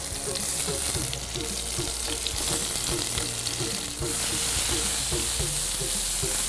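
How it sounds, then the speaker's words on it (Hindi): Cut tomatoes placed cut side down, with garlic, browning in hot oil: a steady, close sizzle and crackle that holds for the whole stretch with faint spatters and no voices. "इस बीच में मैं जो टमाटर मैंने काटे थे इनको उल्टा कटी हुई साइड नीचे रख के इसमें डाल"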